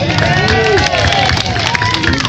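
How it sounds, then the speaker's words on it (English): Crowd at an outdoor alligator wrestling show at a swamp safari, applause and cheering mixed with excited voices and babble, loud and close. "round of applause"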